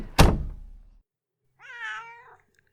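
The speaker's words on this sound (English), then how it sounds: "That's your cat." A house cat gives a single meow that rises and falls, preceded by a sharp thunk, in an otherwise quiet room.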